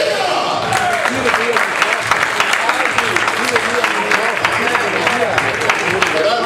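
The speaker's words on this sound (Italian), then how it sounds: "Ragazzi, un applauso da subito." Audience applause at the start of a match in San Giovanni Lupatoto, dense steady clapping and crowd noise filling the whole stretch, with scattered shouts mixed in.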